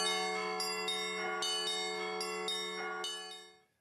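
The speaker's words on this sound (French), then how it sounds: "sonner les cloches de son église" Church bells ringing in overlapping peals, several strikes with long sustained tones, moderately distant, fading out at the end.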